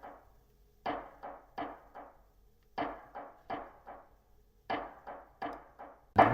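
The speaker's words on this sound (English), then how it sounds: "Second thing I've got on there is a snare sound." A soloed snare sample from an electronic track hits in a steady repeating pattern, each dry, woody crack quickly decaying, with a faint low hum between strikes and no talking.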